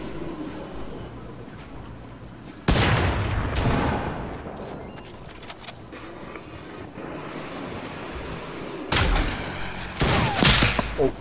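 Shotgun blasts in Fortnite boom out loud and sharp, with a burst around the middle and a cluster of shots toward the end over steady background noise.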